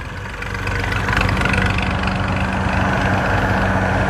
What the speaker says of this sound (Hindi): ये वाला ट्रैक्टर जी भाई यहाँ पर मोड़ेंगे।